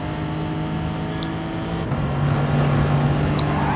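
A race car engine in the video game Gran Turismo Sport drones steadily at high pitch, holding a sustained whine that grows slightly louder and rougher partway through, with no talking.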